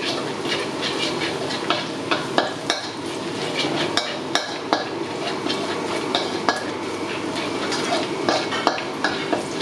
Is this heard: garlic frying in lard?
yes